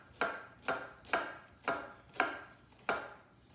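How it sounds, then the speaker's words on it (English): Knife chopping a red onion on a cutting board: six crisp, evenly spaced chops, close and clear in a quiet room. "we're just gonna start with my red onion, and you just wanna dice it"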